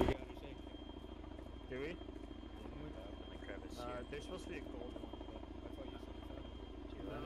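Military helicopter in Arma 3, a steady rotor and engine drone running under several voices chatting over radio.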